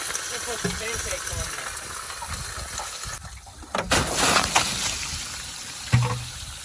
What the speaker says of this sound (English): So the water was going in that hole, going down through the valve cover and hitting the bottom of the oil pan. You can hear it sizzling down in there.